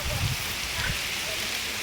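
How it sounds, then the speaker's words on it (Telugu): Steady heavy rain pours down in a continuous hiss, with a few low thumps early on and no talking. "ఘోరంగా పడుతుంది గాయస్ వాన మాత్రం"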